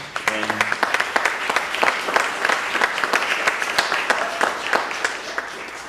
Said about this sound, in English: give them a nice round of applause for participating